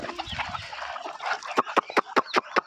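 Free-range village chickens cluck while eating at feeding time. A series of loud, close, sharp clucks comes in quick succession over a soft farmyard background.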